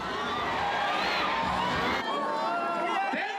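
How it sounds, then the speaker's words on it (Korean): A crowd of citizens at a South Korean presidential election rally for candidate Moon Jae-in cheers and chants his name, a dense, loud, continuous roar of many voices close by. "시민들은 계속해서 문재인을 연호하며 그에 대한 지지를 보냅니다."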